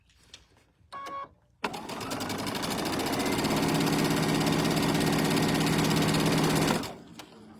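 A sewing machine with a standard J-foot stitches quilt patches at a quarter-inch seam, revving up into a steady fast whir for about five seconds before stopping, preceded by brief clicks and handling noises.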